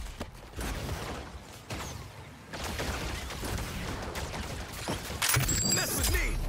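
Gunfire in Suicide Squad: Kill the Justice League, rapid shots crackling amid chaotic game combat, with a sharper, louder burst near the end and a voice talking briefly over it.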